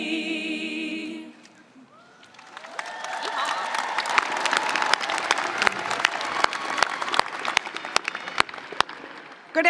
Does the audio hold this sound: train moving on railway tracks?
no